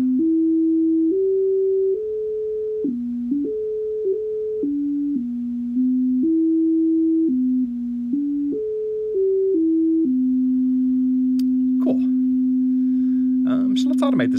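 An ER-301 sine oscillator steps through stored voltage bank values, a pure steady tone jumping between discrete pitches in an irregular stepped melody, then holding one note while brief clicks sound near the end.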